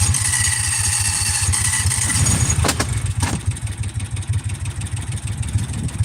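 A vehicle engine, used for a trash cleanup ride in Texas, runs at a steady rumbling idle, with a couple of sharp clunks midway as it is shifted into gear, loud and close throughout.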